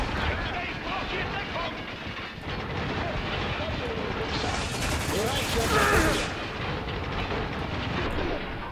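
Dense, rapid bursts of machine gun fire in the war shooter Spec Ops The Line, a continuous loud rattling barrage with a sharper surge midway, with a voice talking over it.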